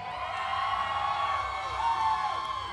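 A festival crowd in Houston, Texas, cheers for a band, a sustained wash of distant whoops and shouts rolling on steadily without a break.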